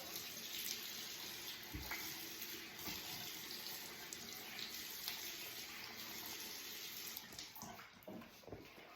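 Tap water runs steadily into a bathroom sink while soap is rinsed off a face, a close, continuous splashing flow with small irregular spatters.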